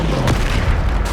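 A Bombarda blasting spell explodes in Hogwarts Legacy, a loud booming burst near the start followed by dense rumbling combat noise, with a second sharp blast near the end and no speech.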